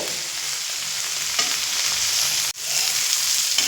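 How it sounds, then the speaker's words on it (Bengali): Tomato and broken wheat (dalia) for a bhuna khichuri fry over high heat in a pan, giving a loud, steady sizzle with a brief break near the end. "টমেটো দেওয়ার পরে আমি দু মিনিট মতো ভেজে নিয়েছি"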